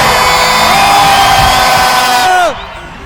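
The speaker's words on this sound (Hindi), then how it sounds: "आप लोगों को एक बार जोरदार तालियों से बताएंगे" Audience at an award ceremony cheering and whooping loudly with sustained shouting and tonal crowd noise, then cutting off sharply near the end.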